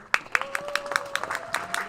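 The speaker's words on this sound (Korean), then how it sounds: "큰 박수 주십시오." Applause and scattered clapping from an audience at a school thanksgiving service in a church setting, sharp claps at a loose rhythm under a sustained tone, moderately loud and near, with no talk.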